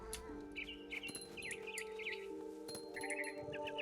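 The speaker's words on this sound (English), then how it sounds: "Then I heard chirping outside my window. It was a barn swallow going back to her nest." Barn swallow chirping in the video game What Remains of Edith Finch: a run of short, bright, repeated chirps and tweets over a steady low musical drone, with a second burst of quicker calls near the end.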